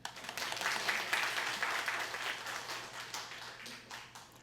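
A church congregation claps during an anniversary thanksgiving service, a steady, diffuse patter of many hands in a large room, moderately faint and sustained for several seconds.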